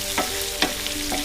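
Thinly sliced onions and green chillies sizzle in hot oil in a pan, a dense close hiss with a few brief stirring scrapes spaced through the short stretch.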